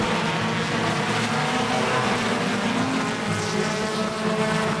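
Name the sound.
stock cars racing on a track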